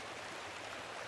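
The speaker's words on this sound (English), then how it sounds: "The waterfall must flow down from the snowmelt in the mountains above the abbey." Waterfall in the game Pentiment, fed by snowmelt from mountains above an abbey: a steady broadband rush of falling water, continuous and even throughout, with no voices.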